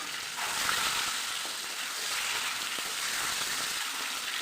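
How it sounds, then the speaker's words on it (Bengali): An egg fries in hot oil seasoned with salt and turmeric, giving a steady, soft sizzle throughout, close by and fairly quiet, with no talking. "তো চলো, এই তেলটাও গরম হয়ে গেছে, তো ডিমটা ভেজে রেখি।"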